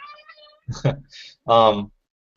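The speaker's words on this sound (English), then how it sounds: "My cat's meowing at me." A house cat gives a couple of short meows close by, mixed with brief vocal sounds from a person indoors.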